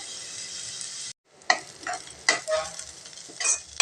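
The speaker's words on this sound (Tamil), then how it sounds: "வெங்காயத்தையும் நல்லா வதக்கி எடுத்துக்கலாங்க." Onions sautéing in a pan for a broad bean stir-fry, a hissing sizzle that cuts out briefly, then resumes with several distinct stirring scrapes against the pan, no voices.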